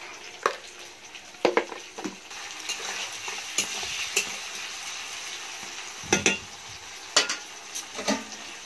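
Chopped onion frying with chicken in a pan while being stirred, a constant crackling sizzle punctuated by sharp clinks and scrapes of a utensil against the pan, close and without talking.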